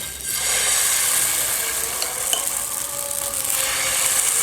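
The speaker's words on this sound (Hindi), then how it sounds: "और इस पे हम डालेंगे बैटर" Dosa batter of dal and rice poured and spread across a hot griddle for a crispy hotel-style dosa, a steady broadband hiss with faint scraping and clinks, continuous and close, no talk.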